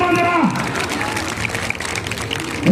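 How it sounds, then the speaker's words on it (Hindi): Audience applause and cheering at a live comedy show in Udaipur, a crowd clapping loosely under fading pitched vocal sounds at the start, then steady mixed claps to the end. "ताली बजाए"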